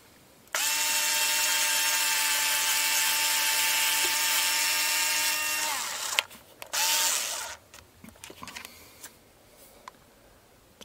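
A small power drill whines at a steady pitch for about five seconds while boring holes in fishing pellets for carp, then spins down. Clicks, a short second burst and handling rattles follow.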